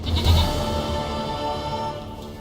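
A goat in The Witcher 3 gives one drawn-out wavering bleat, loud and close, tapering off over a couple of seconds with no voices.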